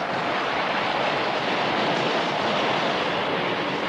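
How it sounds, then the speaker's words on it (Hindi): High stormy sea waves crash and roar without letup, a dense, loud wash of surf and wind with no voices. "कितनी ऊंची ऊंची लहरें हैं"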